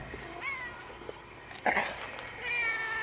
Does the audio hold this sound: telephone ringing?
no